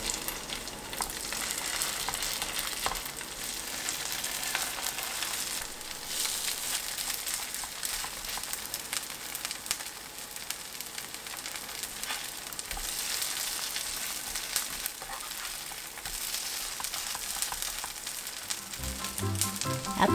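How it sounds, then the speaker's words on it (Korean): Lettuce pancake batter, eggless with tofu, frying in oil in a preheated pan, giving a steady, dense sizzle that holds loud and close throughout, with a few faint clinks near the end. "예열된 팬에 식용유 두르고 반죽을 올려주세요"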